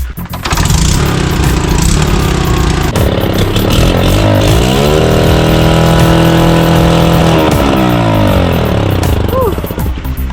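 A motorcycle whose silencer was cracked in a collision with another bike cranks, fires up and settles into a loud, rough, uneven idle close by, with voices talking over it.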